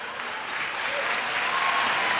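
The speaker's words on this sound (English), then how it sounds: "the crowd claps her off as her teammates, they get around her" A netball crowd at the Nations Cup final between Kenya and Singapore applauding as an injured player leaves the court, steady dense clapping that swells slightly.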